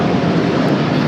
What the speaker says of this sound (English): the American Dreamliner rolling down 25 right